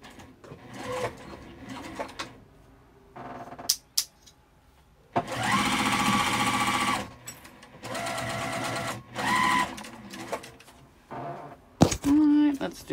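A sewing machine stitches across a beachcomber coin purse, running in several loud, steady bursts of rapid whirring separated by pauses with small clicks and thunks of handling.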